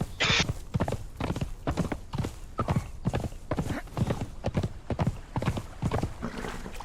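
Steady clip-clop of horse hooves in Conan Exiles, a regular galloping rhythm of sharp hoof strikes running throughout, loud and close, with a brief whinny-like burst near the start.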